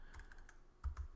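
A computer keyboard being typed on while editing boarding pass text, a few soft scattered keystrokes followed by two louder, closer clacks near the end, with no talking.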